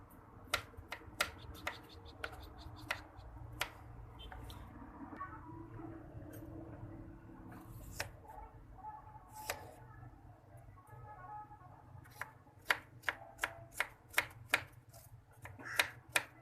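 A knife chops vegetables on a cutting board for masala Maggi noodles, with faint, sparse taps that speed into a quick run of cuts near the end, in a quiet kitchen.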